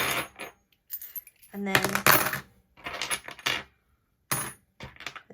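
Metal dice clatter and rattle as they are dropped into storage, several bursts of sharp jangling clinks in quick succession, close and fairly loud, with a brief voice between them.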